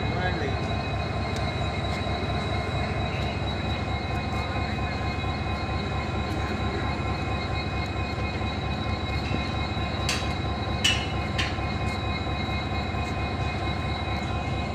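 A train engine and coaches idle at Badarpur railway station, giving a steady loud mechanical drone and hum with a few sharp clanks near the end.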